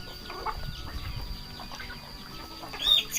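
Chickens clucking softly at a distance on a rural property, low and scattered over a steady background murmur, with a brief louder burst near the end.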